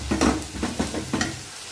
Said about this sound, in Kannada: ಆ ಟೊಮಾಟೊವನ್ನು ನಾನು ಈಗ ಮಾಡಲಿಕ್ಕೆ ಹಾಕ್ತಾಯಿದ್ದೀನಿ. ಅದು ಚೆನ್ನಾಗಿ ನಾವು ಫ್ರೈ ಮಾಡ್ಕೋಬೇಕು.